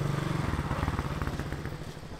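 Burmese Kenbo scooter engine at a busy border-town market in Moreh, putting along with a steady rapid chugging beat, close and moderately loud amid market clatter.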